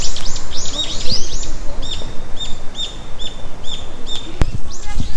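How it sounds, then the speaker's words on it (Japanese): Birds chirp and sing repeatedly outdoors, with rapid bright calls in bursts over steady low rustling background noise, recorded through an external condenser microphone on an iPhone. "鳥の音がすごいするね。"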